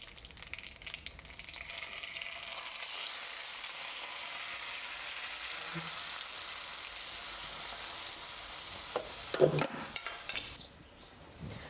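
Ground onion with curry leaves sautés in a pan for onion thokku, making a quiet steady sizzle with a clatter of a spoon against the pan near the end.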